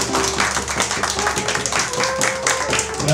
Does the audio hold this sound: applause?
yes